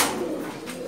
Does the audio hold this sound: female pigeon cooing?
yes